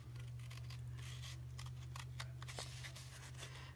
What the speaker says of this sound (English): Just cutting that fold off is what I'm doing.